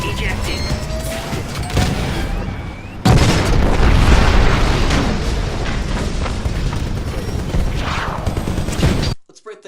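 A Titan's reactor explodes in Titanfall after its pilot ejects from the mech: a loud, sustained roaring blast with heavy rumble swells up partway through, after busier combat noise, then cuts off abruptly near the end.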